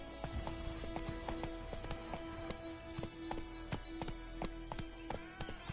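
Roach, a horse in a video game, gallops with rapid, rhythmic clip-clop hoofbeats that stay crisp and close throughout, with no voices over them.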